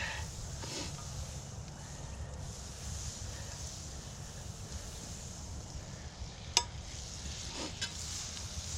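Butter sizzles in a hot Dutch oven in a low, steady hiss with a soft background rush and one sharp click of a spatula against the pot, and no one speaks.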